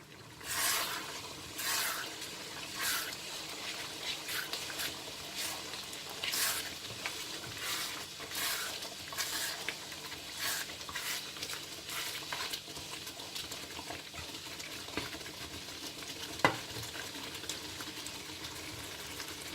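A Pakistani-style mutton karahi curry fries in the pan with a continuous low sizzle and bubbling. Rhythmic scraping strokes of stirring recur throughout, ending with a sharp clink, and no one speaks.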